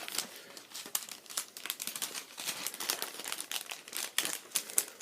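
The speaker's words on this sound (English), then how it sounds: "Because I just take the disc, put it right in the bag." A plastic bag crinkling continuously up close as a disc is slipped inside, a steady stream of dry rustles and crackles with sharper peaks, no voices.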